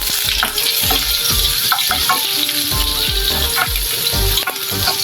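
Garlic and onion fry in hot oil in a pan for adobong pusit, a loud continuous sizzle layered with regular low thumps and scrapes of stirring.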